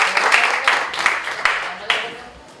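Audience at a press conference for the Preman Pensiun series claps steadily in a dense, close burst of applause with sharp individual hand claps standing out, slowly fading toward the end.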